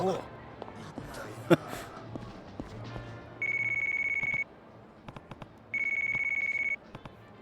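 In Yakuza Kiwami, a mobile phone rings with a withheld caller ID: two sustained electronic ring bursts about a second long each, clear and fairly close, following scattered footsteps and street ambience with brief voices.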